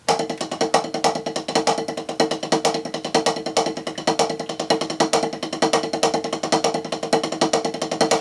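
Rapid, even drum strokes in a fast repeating mixed-sticking pattern with every single stroke accented, played alone and close.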